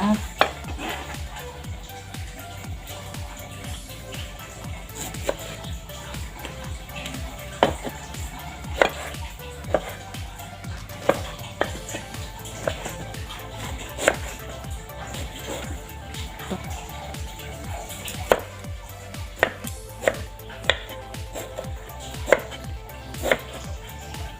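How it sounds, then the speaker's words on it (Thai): Steady knife chopping of bamboo shoots on a cutting board, rapid rhythmic thuds continuing throughout, with occasional louder knocks and faint kitchen clatter. "หั่นจนหมดเลยนะคะ"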